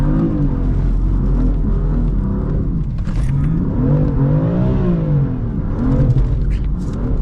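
A BMW M4 engine revving in first gear while sliding on a rainy day, a loud continuous drone that rises and falls with the throttle, with tire and road noise underneath.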